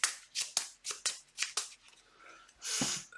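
Playing cards riffled and shuffled back into a deck during a tabletop card game, several quick crisp bursts in a row followed by a longer rustle, close and moderately loud.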